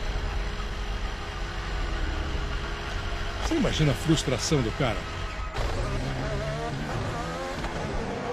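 Formula 1 car at the 2020 Austrian Grand Prix whose engine cuts out as the car tries to restart itself, heard as a low, rough mechanical drone with brief sputtering bursts beneath continuous commentary.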